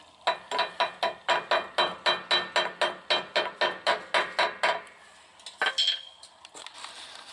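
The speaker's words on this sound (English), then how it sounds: "go ahead and tap the yoke back onto the pinion flange" A metal driveshaft yoke on a 2008-2014 Ford F-150 two-piece driveshaft is tapped onto the pinion flange: about seventeen sharp, evenly spaced metallic knocks, close and loud, followed by a few softer clanks.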